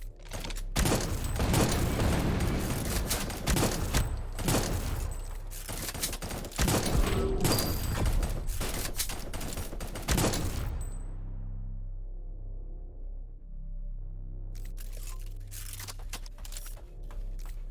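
Rapid bursts of gunfire from a high-damage gun in the video game Project Genesis crack loudly and densely for about ten seconds, then give way to a low hum before brief noisy bursts return near the end.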